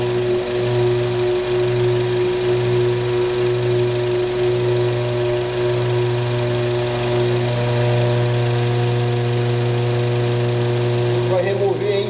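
Peugeot 408 THP engine running at idle with a steady low hum and faint knocking, heard close and continuous without pause, during a transmission oil service on a car with engine noise and a fault warning.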